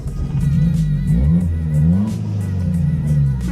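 A Toyota Corolla with a deleted exhaust rumbles loudly at close range, its deep idle rising and falling through several revs with a rough, throaty tone and no talk over it.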